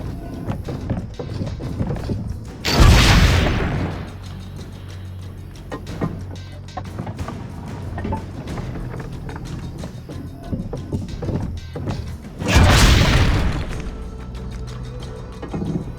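Two heavy, booming cannon shots in the video game Assassin's Creed Brotherhood on Nintendo Switch, roughly ten seconds apart, each loud and sudden over a steady bed of game ambience.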